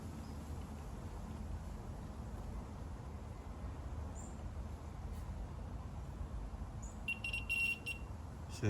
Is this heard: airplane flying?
no